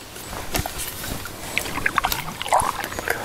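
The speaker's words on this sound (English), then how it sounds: "going to paddle out of here" A canoe paddle dips and pulls through water in a short stretch of light splashes and drips, with a faint breeze in the background.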